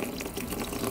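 Water rushes steadily into a PFT Ritmo L plus plastering machine once the water supply button is pressed, a continuous close hiss and gurgle of flowing water with no talk.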